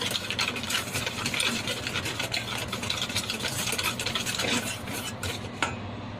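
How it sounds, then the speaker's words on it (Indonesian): Dry ingredients for milk buns, including cornstarch and vanilla powder, being stirred in a bowl: continuous scraping and rubbing with quick utensil ticks, close and steady for about six seconds, with no talk. "Untuk bahan keringnya diaduk terlebih dahulu."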